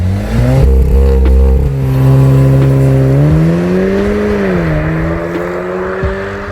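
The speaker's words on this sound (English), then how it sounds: "We've got 4 exhaust tips, which I must say, sound really good for a stock car." A stock 2015 VW Golf R MK7 with quad exhaust tips revving up close, the engine note climbing and falling in a loud, rising drone with several throttle swells, alone without talk.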